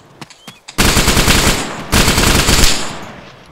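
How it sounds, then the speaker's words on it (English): Automatic machine-gun fire in the combat game Arma 2: a few isolated shots, then dense sustained bursts rattling loudly and continuously, with a brief pause before another heavy volley. "We're getting shot right here, honest."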